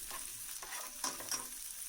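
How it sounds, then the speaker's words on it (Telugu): Onions and green chillies frying in a pan, giving a soft, even sizzle with light stirring scrapes throughout, fairly quiet and close. "ముందు ఆనియన్స్, పచ్చిమిర్చి వేసుకుని వేపేసుకుందాం"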